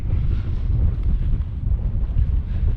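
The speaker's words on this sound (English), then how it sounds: "Plus you're really exposed to the north wind," Strong north wind buffets the microphone on an exposed descent of a Scottish mountain ridge, a steady low roaring rumble with gusting swells, loud and continuous with no voice over it.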